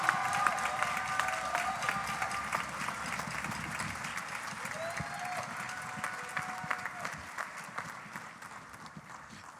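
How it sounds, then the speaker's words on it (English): A crowd at a talent competition applauds finalists steadily for the whole stretch, dense clapping that gradually softens toward the end, with faint voices mixed in. "Give them a round of applause"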